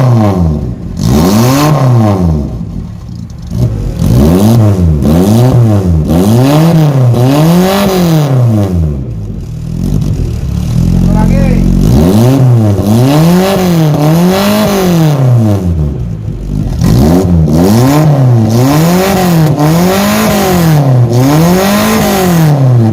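A Suzuki Sierra's racing exhaust revs over and over with a deep bass rumble, each rise and fall loud and near.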